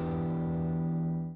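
Electric guitar run through the Archetype Muddy Rock amp preset with the drive switch off, a single sustained chord ringing out with light saturation for just over a second, alone.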